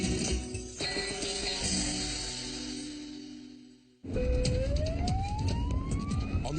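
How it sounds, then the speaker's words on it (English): An ambulance from Clinica Benidorm in Benidorm races to a call-out. Its siren wails upward in a rising sweep through the second half, loud over dense road and engine noise, with no talk. "an ambulance from Clinica Benidorm is on its way to another call-out"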